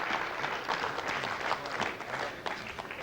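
Staff in a launch control room applaud after the Ariane 5 releases its two satellites, a sustained, moderately distant round of clapping from a group, steady throughout with faint background murmur.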